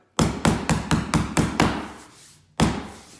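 Hammer tapping vinyl plank flooring into place: seven sharp, evenly spaced knocks, a pause, then another strike, close and crisp with brief ringing decay.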